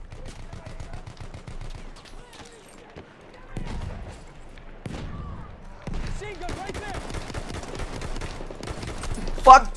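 Gunfire and rifle grenade blasts in the video game Battlefield 1, heard as bursts of shots and thuds under steady talk, growing busier in the second half and ending in a loud blast.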